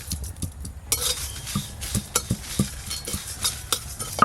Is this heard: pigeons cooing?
no